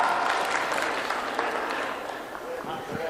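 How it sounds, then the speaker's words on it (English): Audience applause at an ice age science show, a lively burst of many hands clapping that runs steadily throughout and eases slightly near the end, with faint voices underneath. "Give those a loud round of applause"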